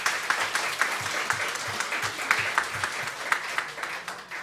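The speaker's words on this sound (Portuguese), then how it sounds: "Pode aplaudir." An audience at a public hearing of a municipal council for the elderly breaks into steady applause, many hands clapping at a moderate level throughout, with no one speaking over it.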